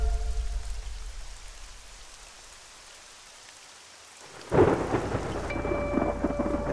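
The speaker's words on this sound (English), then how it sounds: "Storm's getting worse." A thunderstorm in the video game DayZ: steady rain and low rumble fade to a quiet lull, then a sudden loud thunder crack bursts in and rolls on under heavy rain.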